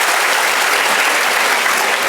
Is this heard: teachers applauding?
yes